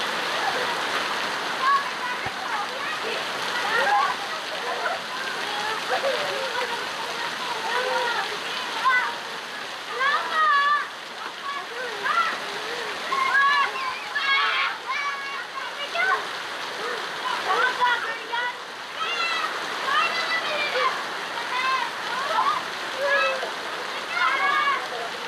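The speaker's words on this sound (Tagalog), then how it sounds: "Laking tulong yung ulan na yan" Heavy tropical rain pours steadily in a Philippine neighborhood while children splash and play in it, their lively shouts and voices carrying over the constant hiss of the downpour.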